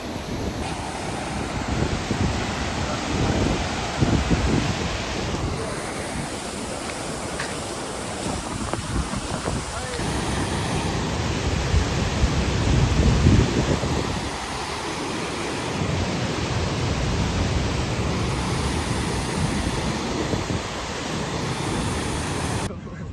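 Steady, heavy rushing of floodwater flowing over a road fills the whole stretch, a broad continuous roar with wind buffeting the microphone.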